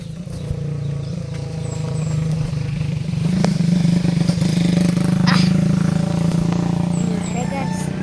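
Motorcycle engines rumble and drone steadily along a road at Manggahan, growing louder as they pass close by, with some clatter and brief mechanical scrapes over a continuous low hum.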